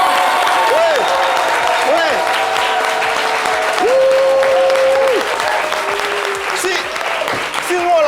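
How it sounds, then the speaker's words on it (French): A studio audience on an Ivorian television show stands and applauds a guest, dense steady clapping filling the scene, with a voice and brief sung or called tones over it. "Je vais demander humblement s'il vous plaît au public de se tenir debout et de l'applaudir."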